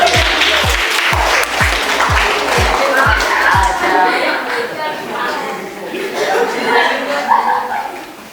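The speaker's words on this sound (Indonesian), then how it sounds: "Ya, tepuk tangan semuanya." Classroom applause from a group of students, a sustained wash of clapping with some chuckling and chatter, loud and close, with a few rhythmic low thumps at the start.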